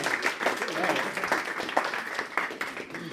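Brief round of applause from a small group during a hands-on science demonstration, moderately loud with uneven claps, mixed with some voices.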